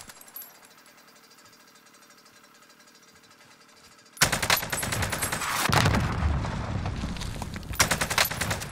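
Gunfire in the Warzone battle royale shooter: after four seconds of quiet, a loud, dense burst of rapid automatic fire erupts and continues steadily to the end, up close.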